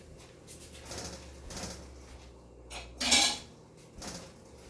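Utensils clinking and scraping in a bowl while ramen with a broken egg yolk is stirred, several soft taps followed by one louder clatter, close by and quiet.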